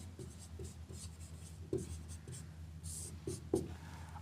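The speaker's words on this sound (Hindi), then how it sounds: "तो मैं यहाँ लिखता हूँ" Pen writing on paper during a maths lesson, a few scratchy strokes and taps spread over a quiet background hum, close and fairly faint, with no talking.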